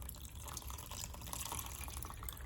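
Three quarters of a cup of water is poured into a small model dam, a soft close trickle and splash running continuously at low volume.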